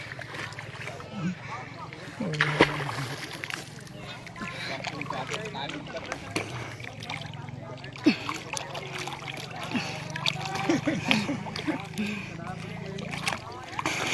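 A makeshift boat paddled by a boy across deep floodwater in Cambodia, with soft splashes and water sloshing near the hull, steady ambient rush throughout and a few louder knocks, while people talk nearby.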